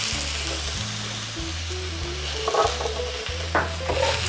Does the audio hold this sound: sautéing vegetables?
yes